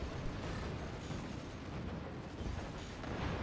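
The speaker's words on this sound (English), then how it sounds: "Let's see if I can shoot them with the rockets" Rockets fire at an enemy fort in the strategy game Forts, a dense rumbling barrage of launches and blasts that stays loud and continuous throughout.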